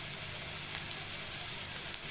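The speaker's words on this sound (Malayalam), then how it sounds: "ചട്ടിയുടെ ചൂടുകൊണ്ട് നന്നായി തിളച്ചിരിക്കുകയാണ് കേട്ടോ" Hot oil sizzling steadily in a pan as a tempering of curry leaves and chili powder fries for a fish curry, a bright continuous hiss with a faint crackle near the end, close and alone.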